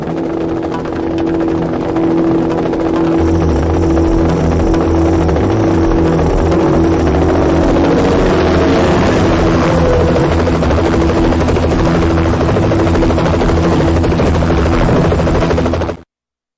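Helicopter rotors and engine drone steadily and loudly throughout a Knight Rider (2002) video game cutscene, a continuous near whine with layered hum and no speech, cutting off abruptly at the end.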